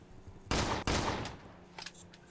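Gunfire aimed at a car's tires in a video game: two loud close blasts in quick succession, each ringing out with a short tail, followed by fainter distant pops.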